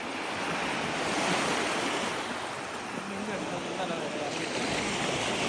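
Sea waves wash onto a beach at night in Pattaya, Thailand, as a steady, dense roar with wind noise on the microphone and no clear talk.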